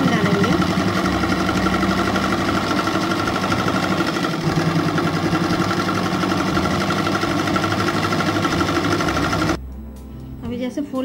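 A sewing machine stitches a semi Patiala salwar, a loud, continuous, close mechanical whirr with a fast even rhythm that runs for about nine seconds and then stops, leaving a few quieter clicks.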